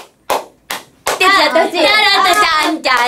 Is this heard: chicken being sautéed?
no